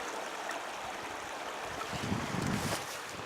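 A small waterfall with little water in it on the Crispus Trail, heard as a steady broadband rush of falling water that swells slightly louder midway, mixed with outdoor wind noise and no talking.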